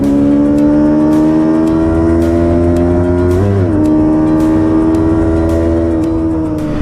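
A 2019 Yamaha YZF R3 motorcycle pulls hard under an opened throttle, its engine droning loud and steady with a brief dip in pitch partway through, like a quick gear change, before climbing again.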